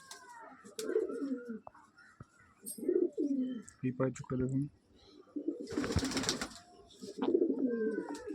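A large male pigeon coos in repeated throaty bursts, close and clear, while someone talks between and over the calls.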